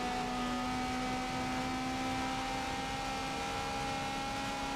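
Ferrari race car engine from a 1980s-era racing video game, a steady high droning whine held at constant pitch, loud and continuous with no talk.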